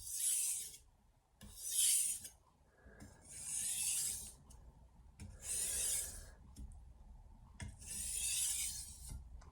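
A stainless steel knife is sharpened on a soaking 1000 grit whetstone, giving five long, close rasping strokes in a steady back-and-forth rhythm with short quiet gaps between them, and no voices.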